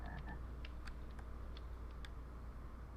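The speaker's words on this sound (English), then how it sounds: "We have a frog on the island." A frog croaks in Minecraft on an island, a series of short, sharp calls scattered over a steady low ambient hum.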